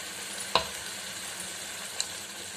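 Ground tomatoes go into a frying masala and are stirred in, giving a soft, low sizzle with a couple of sharp utensil clinks against the pan, heard close and quiet.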